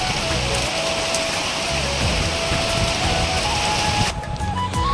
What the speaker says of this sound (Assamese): এয়া বৰষুণ আহিলে পুৰা দবা পিটা বৰষুণ এয়া হৈছে আমাৰ বিহু বতৰ